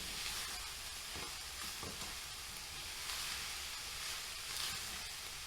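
Minced meat and mixed vegetables for a cottage pie are stirred in a hot pan, giving a steady close sizzle broken by scraping spoon strokes and soft clatter, with no talk.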